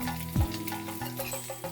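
Mustard seeds, cumin, ginger, dried chillies, curry leaves and asafoetida crackle and sizzle in hot oil as tempering for sambar, a short, steady fry with faint stirring sounds.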